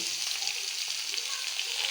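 Green chillies sizzle and crackle in hot oil while a chutney tempering is prepared, giving a steady, dense frying hiss close up with no talk.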